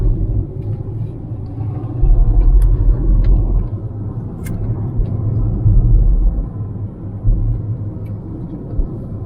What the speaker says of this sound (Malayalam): വണ്ടി ഓടിക്കുന്നു